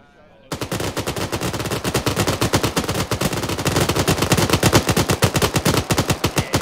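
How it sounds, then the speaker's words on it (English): Sustained automatic gunfire in a video game, rapid and loud, begins abruptly after a short quiet moment and keeps rattling without pause. "There's a lot of fire in that direction."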